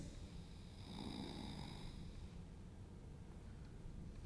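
Slow, heavy breathing with a faint rasp, close and quiet, just short of a full snore; one drawn-out breath with no talking.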